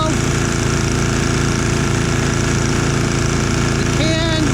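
A gold dredge engine runs loud and close in a steady, throbbing drone like a small motor, continuous throughout with a faint whine rising near the end.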